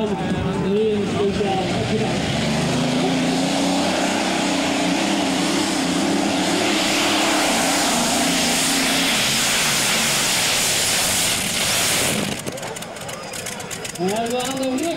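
Roaring Allison aircraft engine powering a pulling tractor at a tractor pulling event in Stroe, a loud sustained blare that shifts in pitch and drops away near the end, with crowd and commentary noise around it.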